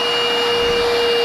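An electric hydraulic pump powering jaws of life, part of a 10,000 PSI setup, runs with a steady, loud whir like a vacuum cleaner, carrying a constant high tone throughout with no talk.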